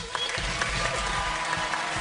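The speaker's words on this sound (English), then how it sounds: "please, give Allie some applause for her bravery" A theater audience applauds a magician's assistant after a coffin sawing illusion, a brief, dense burst of clapping from a crowd with some voices mixed in.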